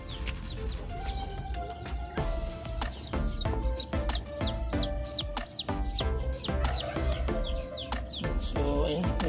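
Silkie chicks and chickens cluck and peep in a box, a busy, close chorus of chirps and clucks overlapping continuously with faint movement beneath.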